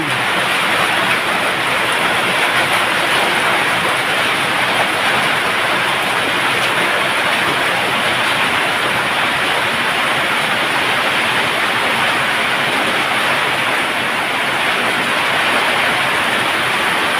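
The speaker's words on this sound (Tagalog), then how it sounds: "grabe lakas ng ulan" Heavy rain pouring down during Typhoon Carina, a dense, unbroken roar of hissing noise that stays loud and constant with no voices.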